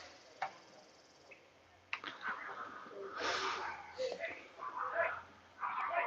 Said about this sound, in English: someone needs to control the dogs right across the street. The dogs are barking.